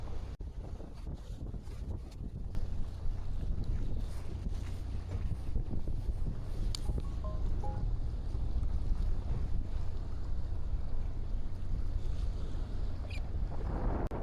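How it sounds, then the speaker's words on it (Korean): Strong wind roars steadily across the microphone out on open sea while cuttlefish fishing off Ocheon Harbor, with faint creaks and thuds from a boat underneath. "엄청난 바람에 카메라도 제 몸도 함께 흔들리고 있습니다."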